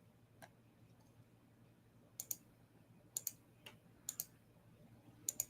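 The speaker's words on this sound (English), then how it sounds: "This should be the last of the clicking." A computer mouse clicks sharply at a desk, crisp single and double clicks arriving in irregular clusters, close and quiet against a low background hum with no talking.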